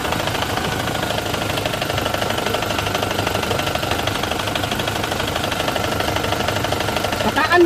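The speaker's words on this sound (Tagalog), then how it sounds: "meron siyang naririnig na maingay dito sa ilalim ng makina niya" Beneath a Toyota Innova, a noisy transmission produces a steady mechanical whir and rattle under the running engine, close and constant throughout, with a brief knock at the very end.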